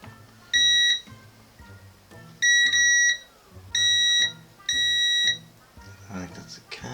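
A multimeter in continuity mode on a workbench, testing parts on a Dualshock 4 controller board, gives four loud, steady, high-pitched beeps of about half a second each, spaced apart, with quiet handling noise and a voice between.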